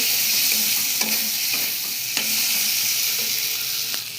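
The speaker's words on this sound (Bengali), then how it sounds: "দেখো আমার আলুটা কিন্তু ভালো করে কষানো হয়ে গেছে।" Potatoes being sautéed for Bengali aloo dum sizzle steadily in a pan, with irregular spoon scrapes and knocks against the metal every second or so and no talking.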